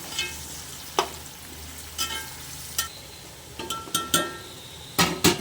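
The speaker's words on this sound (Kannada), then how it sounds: "ಇದು ಈರುಳ್ಳಿ ಚೆನ್ನಾಗಿ ಬಾಡಬೇಕು" Onions fry in a pan for a wedding-style mutton biryani, a low steady sizzle broken by sharp metallic clinks and scrapes of a spoon stirring against the pan.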